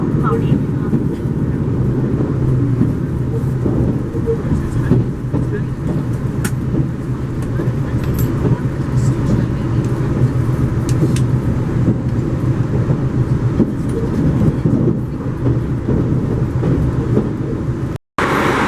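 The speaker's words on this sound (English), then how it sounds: "So I gotta pack up my stuff, get ready to get off the train." Steady, loud low rumble of a train interior during arrival at Sapporo Station at the end of the line from Hakodate, continuous throughout with a brief dropout near the end.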